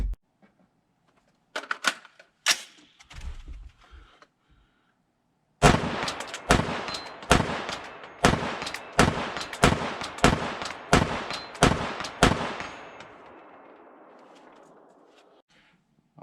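A Daniel Defense M4 V7 PRO rifle fires about ten sharp, evenly spaced shots at a 200-yard steel plate, each crack loud and close with a short ringing tail, preceded by a few quieter clicks and handling noises.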